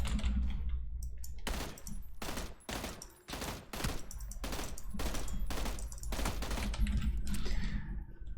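Rapid bursts of automatic gunfire in PUBG ring out loud and close, repeated rattling volleys with short pauses between them, mixed with keyboard clicking and no speech.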